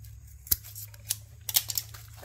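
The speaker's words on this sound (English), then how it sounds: "And we have the purple scissors of fury." Scissors snipping ripcord, a few quiet sharp snips spaced out over two seconds against a low steady background hum.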